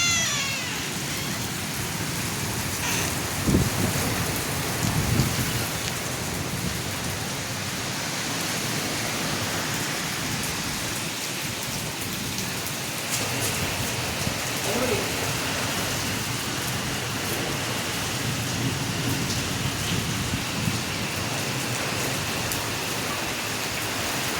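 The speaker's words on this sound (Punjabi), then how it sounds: "ਮੀਂਹ ਬਹੁਤ ਜ਼ਿਆਦਾ ਪੈ ਰਿਹਾ ਜੀ" Heavy rain pours down in a dense, unbroken hiss, with occasional louder drips and knocks close by.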